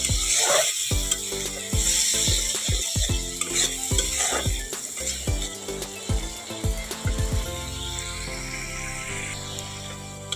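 Spice paste for a fish curry sautéed in a pan with a little water, giving a steady sizzle and repeated sharp spatula scrapes and knocks throughout, with no talk.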